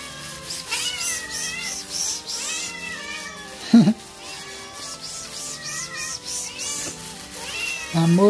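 Cats meow repeatedly in eager, overlapping calls while waiting to be fed mortadella from the fridge, loud and close, with some strained caterwaul-like cries in between.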